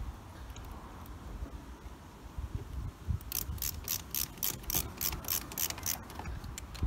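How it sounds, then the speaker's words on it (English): A screw being driven back into the bottom of a heat pump's electrical panel, a quick series of bright ratcheting clicks in a steady rhythm over a low background hum, close and fairly quiet. "replace the screw into the bottom"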